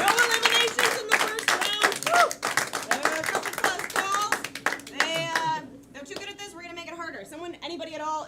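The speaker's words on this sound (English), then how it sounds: "Okay, good clap for him, everybody." An audience at a live comedy main event claps in a quick burst of scattered hand claps, with voices and chatter mixed in around the clapping.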